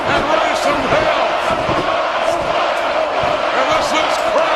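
A sold-out wrestling arena crowd of over 16,000 roars continuously, a dense, loud wall of cheering and shouting with no let-up, and a commentator's voice is faintly mixed in.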